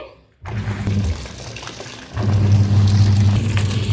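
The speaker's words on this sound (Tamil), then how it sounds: "இப்போ வந்து தண்ணி மட்டும் நம்பிட்டு இருக்கோம்" A washing machine fills with water in a steady rushing flow that stops briefly, then comes back louder and fuller.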